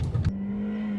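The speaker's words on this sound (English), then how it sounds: "accelerating to 60" A 2020 Lexus UX 200 with a 2.0L engine and CVT accelerates on a test course. A steady, loud drone holds for about a second after a short burst of louder broadband noise.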